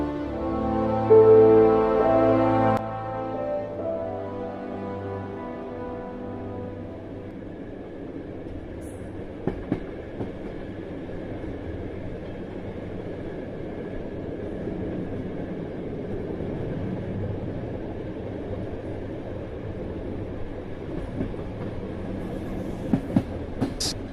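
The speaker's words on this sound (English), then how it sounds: "The train continued its slow, relentless journey, carrying not just passengers but a burden of shared fear, hope, and the promise of a story yet to be told." A train rolls steadily along the rails, a loud close rumble with a tonal hum fading over the first few seconds into a continuous rolling noise, with faint clicks and brief metallic ticks.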